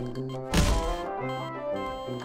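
A Garry's Mod DarkRP player character tripping and falling, a single dull thump near the middle, over faint background game ambience.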